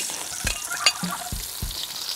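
Garlic and onions fry in a pan for a rabbit meat dish, a close, soft continuous sizzle broken by several short stirring scrapes.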